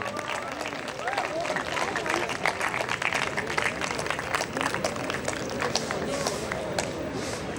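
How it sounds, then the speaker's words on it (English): Audience applause rolls on continuously, a dense wash of clapping with faint crowd murmur underneath. "Delegates, please give them a round of applause, they really deserve it."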